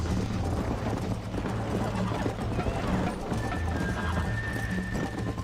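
Horse hooves clip-clopping at a gallop in Red Dead Redemption, a steady rapid beat with occasional whinnies under continuous game noise and background talk.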